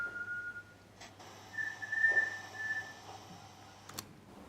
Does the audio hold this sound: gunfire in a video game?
no